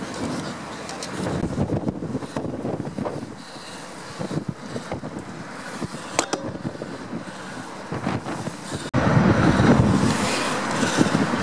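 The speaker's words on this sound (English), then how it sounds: "Yes, it's quite windy up here and it's really scary." Wind buffeting the top of a swaying crane, a steady roar of gusts and microphone rumble that swells louder toward the end, with no other sound standing out.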